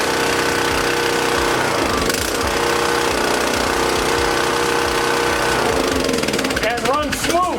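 A small gasoline engine runs on Stabil-treated fuel that sat for 19 months, holding a steady rough chugging idle throughout, with sharp revving bursts near the end and voices talking over it.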